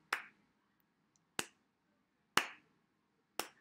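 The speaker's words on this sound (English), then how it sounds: "So everybody, let's clap." Four single sharp claps spaced about a second apart in a children's music class, crisp and fairly close, with near silence between them and no voices.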